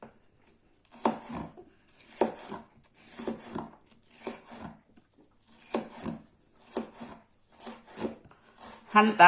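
Green, red and yellow bell peppers are diced on a cutting board for a home-made pizza, a series of close, separate knife chops in uneven bursts separated by quiet pauses, with faint rustling between.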